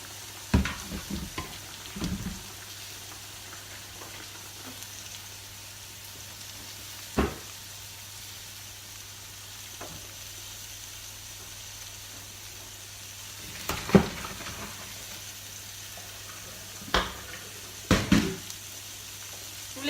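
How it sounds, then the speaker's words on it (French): Courgettes, carrots and onions sizzling gently in a wok, a soft continuous crackle under a low steady hum, broken by a few sharp clinks and scrapes of stirring. "les courgettes, carottes, oignons sont dans le wok, donc vous les laissez mijoter pour qu'elles prennent couleur"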